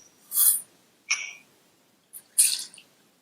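Uncooked rice and toor dal being rinsed in water in a home kitchen, heard as four short splashy swishes with quiet gaps between them, close and fairly soft.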